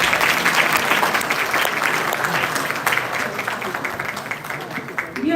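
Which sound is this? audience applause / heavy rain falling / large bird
audience applause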